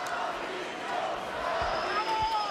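Boxing crowd at the Johan Perez vs Mauricio Herrera fight chanting Mauricio, a dense arena roar with rhythmic voiced swells and thuds underneath, loud and continuous.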